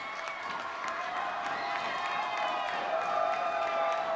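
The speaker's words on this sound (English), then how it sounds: "Listen to the crowd." A crowd at a high school football game between Shelton and North Thurston cheers and applauds steadily, a dense wash of voices and clapping heard from within the stands, holding at a fairly even level throughout.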